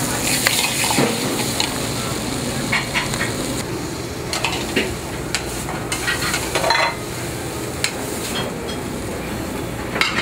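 Soft shell crab browns in a frying pan with a steady, close sizzle and crackle, scattered pops and light clinks of utensils against the pan throughout, with no talking.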